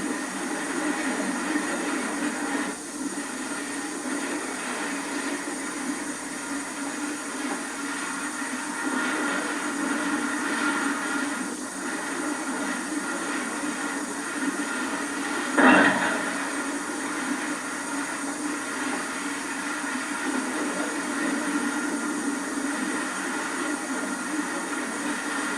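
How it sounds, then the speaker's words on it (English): A South African Railways Class 16E steam locomotive with six-foot driving wheels on 3'6" gauge track rejoining its train after taking on water, a continuous hissing, rumbling drone with a brief sharp burst partway through. "the Class 16E rejoins its train for the next dash to Klerksdorp"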